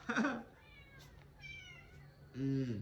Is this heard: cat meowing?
yes